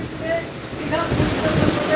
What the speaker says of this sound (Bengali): চলছে প্রবল গতিতে বাতাস আর চলছে জোয়ারের মুহূর্তে জল উচ্ছ্বাসও ব্যাপক পরিমাণে